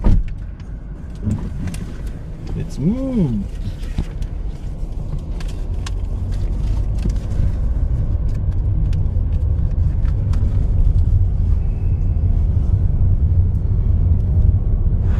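A car drives along a road in Negros Occidental with a steady, close, low engine and road rumble that continues throughout, while a voice calls out briefly near the start.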